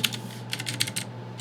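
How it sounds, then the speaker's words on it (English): A domain name is typed on a computer keyboard: a quick run of light, close keystrokes in uneven clusters over a steady low hum, with no talking. "I could just hit enter, but I'm going to type it out."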